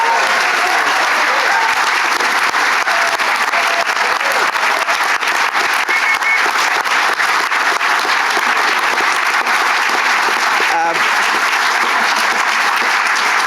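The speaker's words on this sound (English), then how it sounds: "That deserves another massive round of applause." A large audience applauds steadily and loudly after a choir's performance of Australian protest songs, a dense wash of clapping that continues unbroken for the whole stretch.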